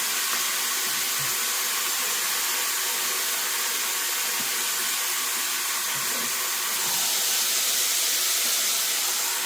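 Chicken strips fry on a grill, a steady loud broadband sizzle and hiss that holds nearly constant throughout and grows slightly louder near the end, with no talk.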